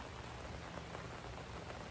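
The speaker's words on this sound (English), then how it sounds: "you can probably hear that the rain is going on behind me, and I'm sitting out here on my deck," Steady rain falls outdoors around a deck, a dense, even hiss of drops pattering on surfaces, fairly quiet and uninterrupted, with no voices.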